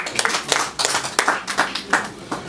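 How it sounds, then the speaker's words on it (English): Sparse, distinct hand claps at a business presentation, a small number of people clapping in a loose irregular rhythm, close and moderately loud with no other voices. "Please let's give Dr. Charles a round of applause."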